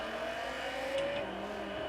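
A Dodge Viper, rear-wheel drive, driven in the racing game Forza Horizon 3, its engine a steady droning hum held at moderate volume over two seconds, no talk.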